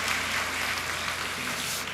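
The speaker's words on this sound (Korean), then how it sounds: "목사님 나오실 때 환영합니다. 박수 보내주시기 바랍니다." A church congregation claps steadily to welcome the pastor at a Sunday worship service, a dense, even wash of applause filling the hall throughout, with a faint low hum underneath.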